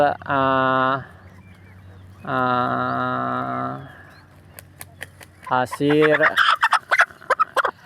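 Chickens crossbred from laying hens and Bangkok fowl give two drawn-out, throaty calls close by, separated by a short gap, then a burst of quick clucks and scratchy knocks follows.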